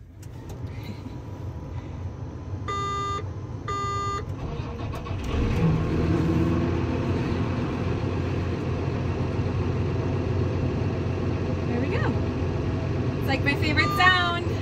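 A few electronic beeps, then a tractor's diesel engine cranks and catches, settling into a steady rumbling idle with a brief chime near the end.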